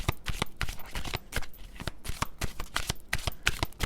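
Oracle cards being shuffled by hand during a card reading, a steady run of crisp, close riffling and slapping strokes with no talking.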